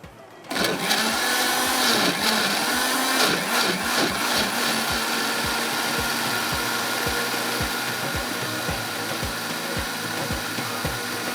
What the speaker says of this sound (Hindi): यहाँ पर ब्लेंडर को चलाएँगे और इसको पीस लेंगे